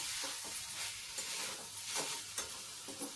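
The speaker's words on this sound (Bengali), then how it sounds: "এখন সয়াবিনটা মশলার মধ্যে ঢেলে দেবো সয়াবিনটাকে দিয়েও ভালো করে নাড়িয়ে চালিয়ে নেবো" Fried soybean chunks stirred into masala in a pan, a soft steady sizzle with scraping strokes of a spoon, quiet and close, no voices.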